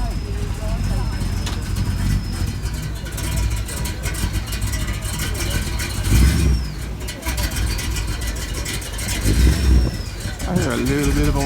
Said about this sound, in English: I hear a little bit of a whining sound.